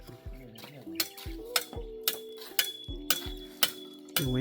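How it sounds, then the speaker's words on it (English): A bricklayer chops down a brick with a hand tool so a window will fit, on a building site in Ghana: sharp metallic strikes at a steady rhythm, about one every half second, loud and close, with no voice. "that's what you see him chopping down the brick so that they'll be able to fit the window in"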